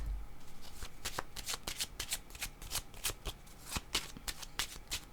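Tarot cards are handled and shuffled close up: a fast series of soft papery flicks and slaps in an uneven rhythm, with no voices.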